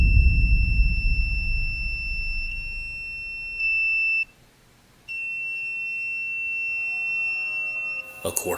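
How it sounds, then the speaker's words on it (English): A 360 motion detector alarm sounds a steady high electronic beeping tone, near and loud, cutting out briefly before resuming, after a low rumble at the start. "the 360 goes into alarm as it detects movement"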